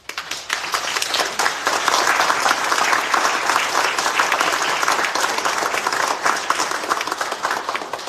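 A congregation at a Catholic Mass applauds a newly ordained priest, a loud, dense burst of clapping that starts abruptly and carries on strongly and evenly with no speech over it.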